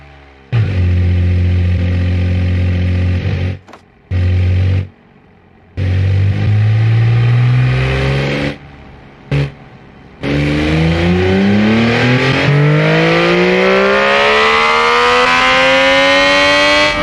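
A very light car in BeamNG.drive revs hard in loud repeated bursts split by brief silences, then its engine climbs in one long rising whine as it speeds toward a ramp.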